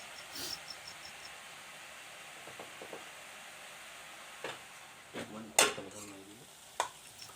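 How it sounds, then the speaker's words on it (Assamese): Soft, quiet sizzling of greens frying in a pan while pigeon meat is stirred, with occasional stirring scrapes and a few sharp utensil clinks. "এইফালে একেলগে শাকো ভাজি আছোঁ, মাংসও লৰাই আছোঁ"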